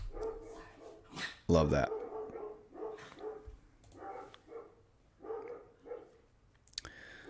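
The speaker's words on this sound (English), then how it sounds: "as you listen to my dogs lose their minds outside" Dogs bark repeatedly outside, a series of sharp muffled barks and yips scattered through the clip, with someone speaking briefly among them.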